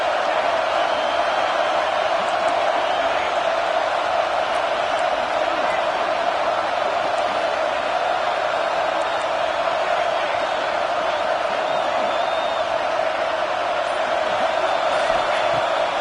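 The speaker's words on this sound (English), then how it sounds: "this crowd is making it miserable on this offense" Dense, steady roar of a football stadium crowd during a tense fourth-down play in a Gators game, a continuous wall of cheering and yelling held at full loudness throughout.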